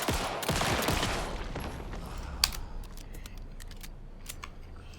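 Gunfire from shooting in the Alan Wake 2 video game: a dense opening burst of rapid shots that tapers off, followed by scattered sharp clicks and mechanical clacks with near silence between them.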